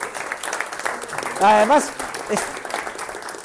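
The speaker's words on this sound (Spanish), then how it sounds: "Venga, un aplauso a todos." A classroom audience gives a short burst of applause during a university lecture session, the clapping spread through the clip while a voice speaks over it.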